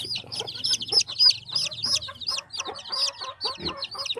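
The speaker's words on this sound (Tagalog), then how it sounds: "Meron po akong dalawang red eyes na chicken po dito." Chicks with red eyes peep in rapid, high, repeated chirps, close and lively, with several birds overlapping and no voices.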